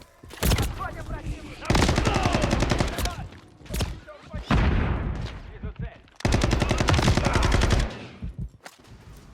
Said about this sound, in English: you want to know what guns should sound like in a game